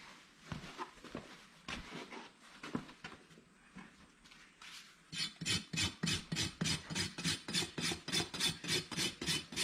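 A farrier's rasp roughs up a horse's hoof wall, first in scattered scraping strokes, then in a fast regular run of rasping strokes, close and clear.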